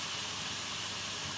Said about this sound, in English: I'm just going to leave it to sizzle away for around about 5 to 10 minutes